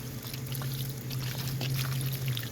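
Water pours steadily into a squash planter on a deck, a close continuous gurgling splash with a low steady hum underneath, no voices.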